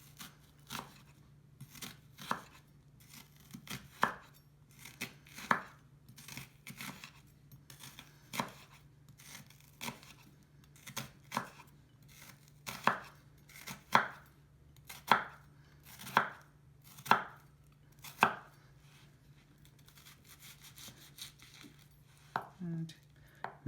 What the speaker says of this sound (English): So first I am going to mince half onion